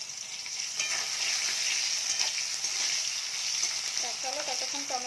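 Chopped tomato frying in a pan with a little salt, a steady close sizzle broken by scraping stir strokes, with a faint tonal hum rising near the end.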